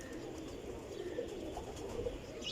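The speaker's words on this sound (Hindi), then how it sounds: "ये काले मुँह वाला सियालकोटी कबूतर है जी" A black-faced Sialkoti pigeon coos softly, with low, faint murmuring calls drifting over a quiet background hum and no voices.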